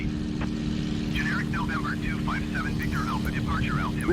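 Engine drone of a P-51A Reno race plane in a flight video game, a steady loud hum running throughout, with a person talking over it.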